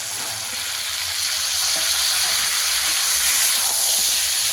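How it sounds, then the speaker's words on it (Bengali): Loud, steady sizzling and hiss of washed drumsticks (moringa pods) frying in a pan with a little added water, continuous and close throughout. "ধুয়ে পরিষ্কার করে রাখা সজনে ডাঁটা দিয়ে দেবো।"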